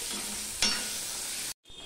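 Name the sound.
brinjal (eggplant) with turmeric frying in a pan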